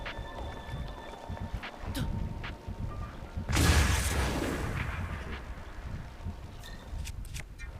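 Distant booms and scattered sharp blasts from The Legend of Zelda: Breath of the Wild rumble under a low background, with one louder explosion surging midway before fading into continued crackling.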